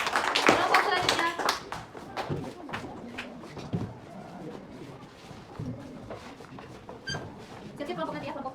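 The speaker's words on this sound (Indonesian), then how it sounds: "Tepuk tangan untuk kelompok." A classroom of high school students claps for a student group after its presentation, with a scattered burst of hands that thins out as a teacher's voice and chatter continue over it.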